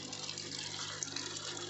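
Water running steadily into a homemade soil-free hydroponic growing system, a constant close hiss of flowing, gushing water that stays even for the whole stretch with no talk.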